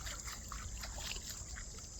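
Creek water trickles and babbles steadily with small splashy bubbling as someone wades through it, a continuous close, moderately quiet flow with no voices.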